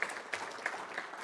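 Audience applause with scattered cheers for event sponsors at the opening session of a landcare conference, a brief steady burst of clapping from a crowd.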